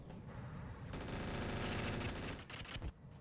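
A mech fires SRM4 missile launchers in the RogueTech battle game, a dense, loud rattle of launches and impacts over a couple of seconds, with sharper bursts near the end.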